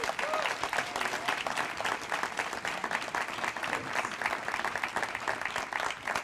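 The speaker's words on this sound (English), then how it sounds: "Let's give him a round of applause." An audience at a teacher of the year awards ceremony applauds with steady, dense clapping that carries on evenly for several seconds, the clapping fairly close and moderately loud.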